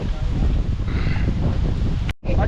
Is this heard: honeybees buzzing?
no